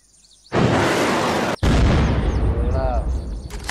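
RPG blast in the game Unturned: a sudden loud, close boom that cuts out briefly, then a second heavy roaring burst that slowly rumbles and decays.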